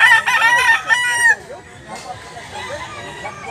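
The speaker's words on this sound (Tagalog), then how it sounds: "Limon ang biling manok ni Busing." A rooster crows once, loud and near, at the start, followed by quieter background clucking and faint farmyard noise; no talk is heard.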